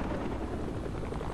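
A helicopter in Fortnite drones as a steady, dense rotor wash that fills the whole moment at an even loudness, with no voices over it.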